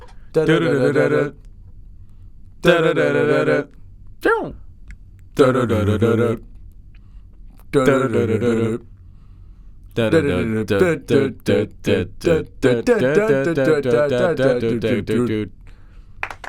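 A voice sings a short bouncy five-note phrase repeatedly, mimicking the underground music from Mario, the phrases separated by brief pauses and speeding up toward the end.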